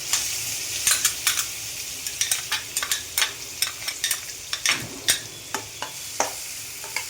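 Onion frying in butter mixed with a little oil, stirred in the pan: steady close sizzle broken by repeated quick scraping stir strokes, with no voices.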